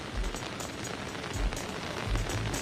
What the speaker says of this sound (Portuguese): é o momento em que a chuva volta a apertar aqui em Canoas